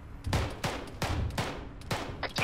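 Gunfire in the Arma 3 military simulation game: four or five sharp, loud rifle shots in quick succession, each with a short decaying tail, with no talking.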